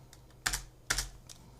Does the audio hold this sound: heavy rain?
no